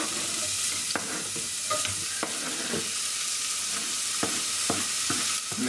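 Chopped onion fries in hot oil, a dense, loud hiss that runs steadily throughout, with a few quick scraping clicks of a stirring utensil and no voices.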